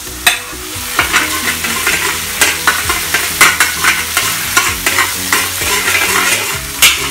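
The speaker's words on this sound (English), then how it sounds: "we are going to fry the garlic" Garlic and black bean paste fry and get stirred in a wok, with a loud steady sizzle broken by repeated scraping strokes of the utensil against the pan, close up and without talk.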